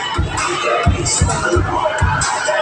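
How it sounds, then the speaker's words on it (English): A party crowd singing and dancing at a night event with lights and music, a noisy mass of voices and cheering over a steady thumping bass beat. "the whole crowd is vibing and singing the music, dancing"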